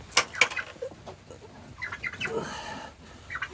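Turkeys and other poultry in a farm coop with a heat lamp, giving scattered clucks, short calls and a brief flutter of wings, fairly faint and close, with no talking.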